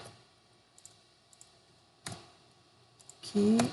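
Scattered keystrokes on a computer keyboard while typing text in Photoshop, a few light clicks and one sharper tap, followed by a short burst of speech at the end.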